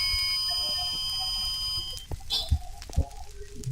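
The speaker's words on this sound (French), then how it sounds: "c'était la sonnerie du lycée" A high-school bell rings as a steady electronic tone for about two seconds, then cuts off, leaving room noise and a few faint knocks.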